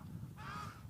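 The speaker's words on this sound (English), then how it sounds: "The Southern African shell ducks." A South African shelduck gives a short honking call in open nature, a single brief goose-like note over faint background sound.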